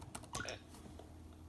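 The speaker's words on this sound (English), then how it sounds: "I'm going to type my name." Someone types a name into an email address field in Outlook on a computer keyboard: a quick, faint burst of a few key clicks early on, then quiet room tone.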